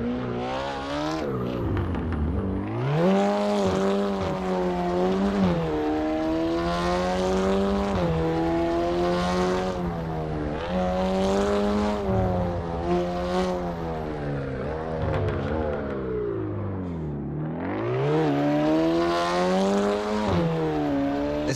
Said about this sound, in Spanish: Es un mod de coches de Minecraft.